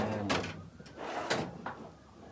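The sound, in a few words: drawers opening and closing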